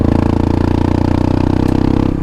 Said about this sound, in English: we put the exhaust on, and the first thing I noticed is that it's got a really powerful sound